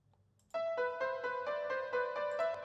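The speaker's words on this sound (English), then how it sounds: "It's just the Nexus piano." A Nexus software piano plays unfiltered in a beat, a bright sustained chord pattern entering after a brief quiet moment and repeating in even, steady hits with full upper harmonics.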